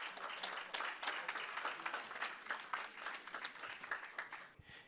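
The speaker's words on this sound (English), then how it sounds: "give them a round of applause" A summit audience applauds a panel introduction, steady dense clapping at moderate distance that thins out toward the end, with no speech on top.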